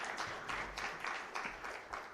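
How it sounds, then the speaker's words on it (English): An audience at a national validation workshop on Uganda's climate contribution applauds the State Minister, steady broadband clapping at a moderate, somewhat distant level, pulsing slightly, with no voices. "Round of applause again for the State Minister."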